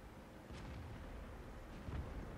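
Tank cannon fire in a tank video game, with a few muffled booms over a steady low engine rumble and no talk.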